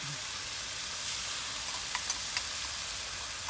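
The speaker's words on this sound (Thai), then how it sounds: "ใส่น้ำมะขามเปียกลงไป" Tamarind water is poured into frying chili paste, setting off a soft, steady sizzle with scattered crackles and pops, close and fairly quiet, with no talking.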